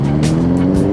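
A big bike motorcycle passing close by, a loud, steady engine drone with a rising and falling whoosh, brief and heard with no talk over it.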